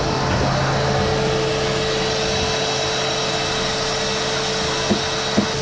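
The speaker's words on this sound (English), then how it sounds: "I can also run my wet dry vac and vacuum out bilges and rinse" A wet-dry vacuum runs aboard a sailboat with a steady, droning whine throughout, with a couple of faint knocks near the end.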